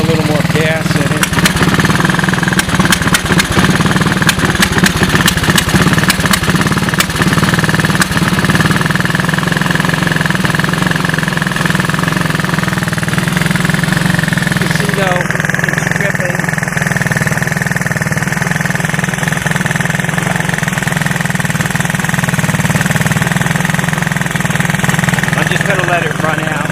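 A 1985 Honda ATC 200S ATV engine runs steadily at idle, a loud, continuous putter that holds close for the whole stretch while left to run until its fuel is used up.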